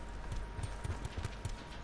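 Footsteps thud in a quick, even rhythm of soft, low-pitched steps in the video game Call of Duty Blackout, close by and moderately quiet, with no talking.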